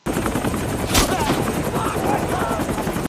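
Helicopter rotor noise thunders steadily while a sharp gunshot burst cracks out near the start, from the film The Wall (2017), with a voice speaking over the din.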